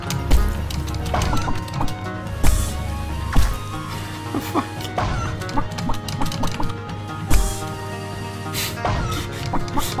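Clucking and squawking from a chicken in the video game Chicku, repeated in uneven bursts over a busy game soundtrack, loud and near, with someone talking between the calls.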